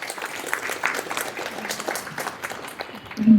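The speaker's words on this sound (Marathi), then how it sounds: "एकदा काव्याकरता आणि अथर्वकरता जोरदार एकदा टाळ्या सगळ्यांनी" An audience claps for Kavya and Atharva at a devotional gathering, a sustained patter of many hands at moderate distance, rising louder toward the end.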